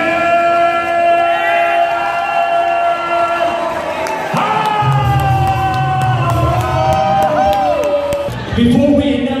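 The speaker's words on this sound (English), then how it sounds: "Put your hands together for me!" A live crowd at a boxing and MMA event in the Philippines roars, cheers and whoops loudly for the fighters, with sustained yelling and a swell of noise partway through, mixed with a voice over a PA.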